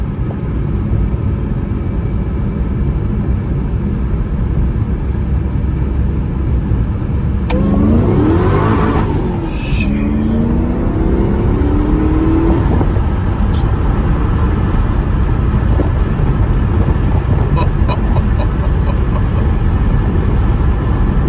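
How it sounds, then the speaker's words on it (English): A 2005 Ford GT engine runs loudly throughout, then a sharp rise in revs climbs to the limiter with a burst of rapid bouncing before settling back. The sound is heard from inside the car, with no voices. "Did you hit the rev limiter?"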